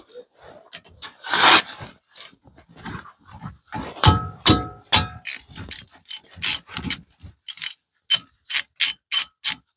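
Ratcheting wrench clicking in quick repeated bursts while loosening brake caliper bolts on a 2019 Dodge Ram 1500 4x4, vice grips holding the bolt's other side, close and fairly loud.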